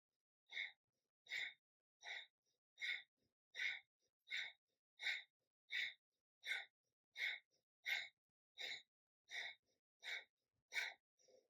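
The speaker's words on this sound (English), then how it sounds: "Breath of fire." Breath of fire yoga breathing in a steady run of about sixteen forceful, evenly spaced nasal exhalations, each a short puff with brief silence between, close and alone.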